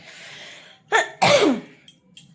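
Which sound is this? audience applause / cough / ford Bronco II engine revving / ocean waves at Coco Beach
cough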